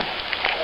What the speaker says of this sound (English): It's nice and rainy.